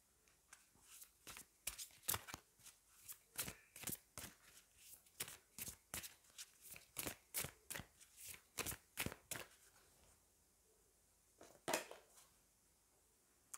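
Oracle cards from a Magic of You deck being shuffled and drawn, a quick run of crisp papery riffles and flicks in steady succession, close and fairly quiet, easing off near the end with a couple of final snaps.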